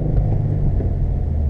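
A manual transmission car's engine while driving: a close, steady low rumble and drone from inside the moving car, with no talking.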